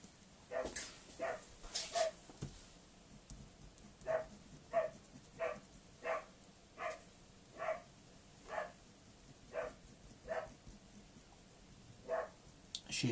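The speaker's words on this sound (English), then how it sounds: "There goes the dog." A dog barks repeatedly at a distance in a steady series of sharp, evenly spaced barks, faint against a quiet room, with a few clicks nearby.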